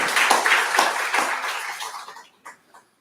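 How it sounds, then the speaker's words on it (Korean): A church congregation at a Sunday worship service applauds with dense, even clapping that tapers off and fades out, followed by a couple of last isolated claps. "우리 하나님께 영광의 박수 다시 한번 돌리겠습니다"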